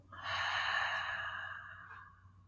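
One slow, open-mouthed exhale during a seated chair yoga session, a soft breathy rush of air swelling quickly and fading out over about two seconds, close and quiet with no talk.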